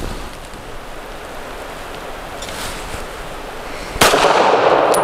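A suppressed Smith & Wesson Equalizer pistol fires heavy 165 grain Ammo Inc. Stealth TMC rounds: one muffled shot cracks near the end over steady outdoor background noise.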